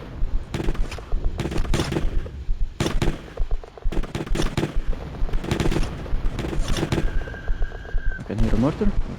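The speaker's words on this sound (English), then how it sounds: "I can hear a mortar." Intense trench battle in Letters of Bernard Thorne: rapid bursts of gunfire and sharp detonations, including mortar rounds, repeat in irregular clusters, with shouted voices mixed in.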